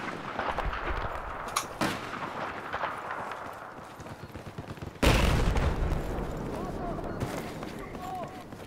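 Gunfire and heavy explosions in Battlefield 4, with a steady barrage of distant shots and booms and a sudden loud blast midway followed by continued rumbling fire.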